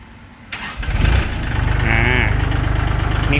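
A used Kubota or Yanmar farm tractor engine cranks and catches after a short starter whir, then settles into a loud, rhythmic diesel chug close by.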